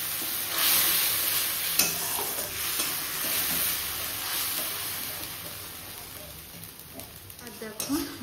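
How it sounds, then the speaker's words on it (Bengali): Spice paste with black cumin, salt and turmeric fries in hot oil in a pan, a close, continuous sizzle broken by stirring scrapes. "আর দেখো মশলাটা ভাজা হয়ে গেছে, তেলও ছেড়ে দিয়েছে।"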